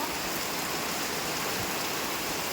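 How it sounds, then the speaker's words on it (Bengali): Heavy rain falls at night in a steady, dense hiss of water with wind, continuous and even throughout, with no voices. "জলে জল হয়ে যাচ্ছে সব বৃষ্টিটা অনেকক্ষণ আগে শুরু হয়েছিল"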